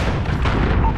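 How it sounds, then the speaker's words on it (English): Cruise missile explosion in a Modern Warfare online match on the Atlas Superstore map: a loud, sustained, deep rumbling boom, close and dense for the whole second, with crackling debris layered over it. "Cruise missile away."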